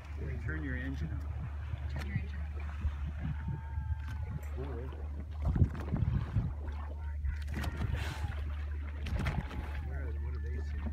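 A boat engine on a Hawaii whale-watching tour gives off a constant low hum that runs under people talking, with occasional wind and water noise.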